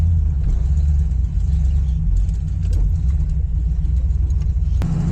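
A 1969 Ford Fairlane engine runs rough and in need of carburetor tuning, a loud, close, steady low rumble with slight unevenness, alone.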